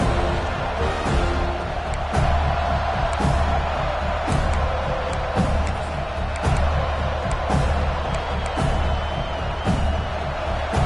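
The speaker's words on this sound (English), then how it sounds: "Decibels rising as the crowd gets behind this defense on third down" Loud, steady roar of a college football stadium crowd building during a third-down defensive stand against Tennessee, dense sustained noise with scattered whoops and shouts throughout.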